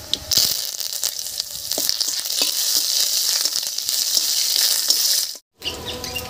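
Panch phoron and bay leaves sizzling in hot oil for a raw papaya veg dal: a steady, loud hiss and crackle with small pops throughout, cut briefly near the end.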